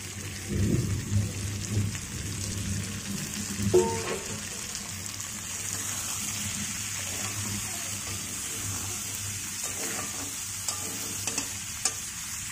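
Heavy monsoon rain falls all day as a steady, soft hiss in the background, while nearby cooking adds a few stirring clanks and low thumps.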